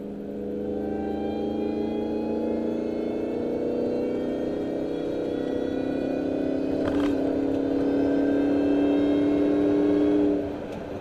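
Car with ported silencers pulling hard in third gear from about 70, a loud steady engine note rising gradually in pitch for around ten seconds before easing off.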